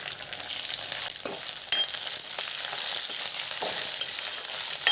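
Sesame seeds and halved green chillies frying in a pan give a steady, close crackling sizzle throughout, broken by a few sharper pops and brief clinks of stirring.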